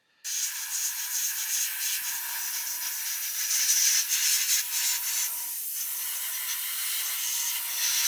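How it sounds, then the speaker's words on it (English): Continuous hiss of an aerosol primer can spraying lightly close by on a 1/72 Airfix Vulcan model kit, in long, steady bursts, with faint knocks in the background. "I'm spraying it very, very lightly."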